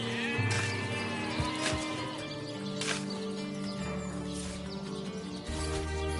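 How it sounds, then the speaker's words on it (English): Sheep bleating in the fantasy role-playing game Divinity: Original Sin, a few wavering calls set over a busy, steady game soundtrack of music and ambience. "That's a sheep!"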